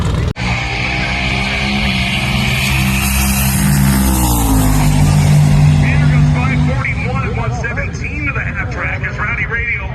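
Full-blown drag cars at an Xpress drag racing event roar loudly and steadily close by, a deep engine drone with rising tones as they run down the track, with a voice talking over it.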